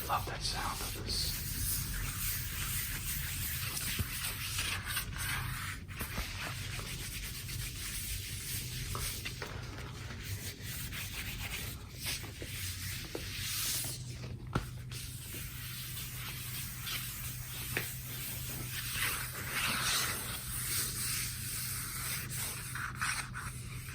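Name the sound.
rubbing a matte-finish vinyl record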